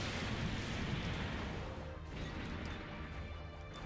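Double bazookas firing in the Gundam Breaker 3 video game, a dense roaring blast that swells and then trails off into a rumbling wash, loud and continuous, with no talking.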